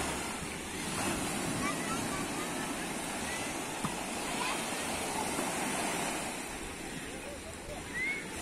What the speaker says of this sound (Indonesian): Suasana Pantai Karang Bolong saat liburan cukup ramai sekali ya